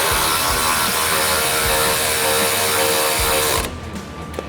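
Ratcheting hand tool tightening the nut on a Freightliner truck hood strut, a close, steady run of rapid clicks that holds for several seconds and then stops.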